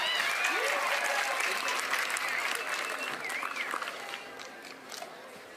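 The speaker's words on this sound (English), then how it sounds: "The crowd erupts." A crowd at a beach volleyball match in Newport Beach bursts into loud, dense applause with scattered cheers and whistles, slowly fading over several seconds while a commentator's voice is faintly heard.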